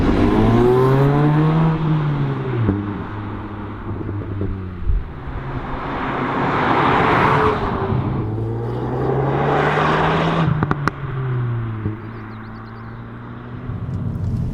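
Ford Focus ST with 280 hp driving on the road, its engine note rising and falling through the gears, loud and close with steady road and wind noise and no talking.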